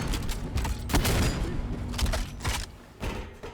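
Gunshots in the video game Sprawl, several sharp bursts arriving irregularly over about three seconds, fairly close and punchy against background game noise.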